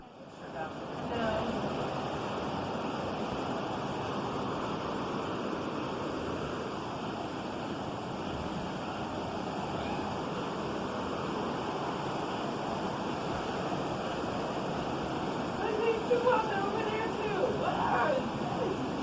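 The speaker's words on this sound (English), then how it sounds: "Look at the wave, like the water coming up off the wave." Hurricane-driven ocean waves surge and crash in a continuous roar, with heavy wind buffeting the microphone and indistinct voices in the background.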